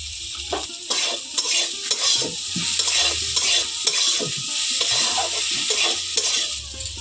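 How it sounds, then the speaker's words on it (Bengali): Vegetables and chopped green chillies being stirred in a frying pan: repeated scraping strokes of a spatula against metal in an uneven rhythm over a constant bright sizzle, close up, no voices. "এখন আমি এইগুলোকে খুলে আবার একটু নাড়াচাড়া করে"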